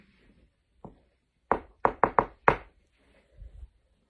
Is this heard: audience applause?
no